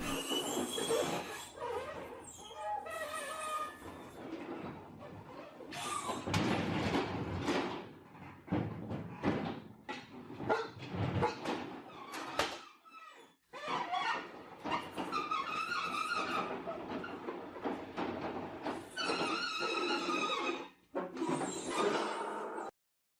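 A Genie lift grinds and squeaks in loud, uneven bursts as it raises, with shrill metallic squeals and brief pauses between movements.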